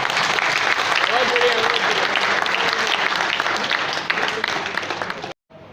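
Loud, sustained applause from a large audience at a Lions Club regional convention fills the room, steady clapping that fades slightly before cutting off abruptly.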